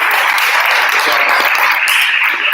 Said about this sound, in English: Big round of applause for Ihsan.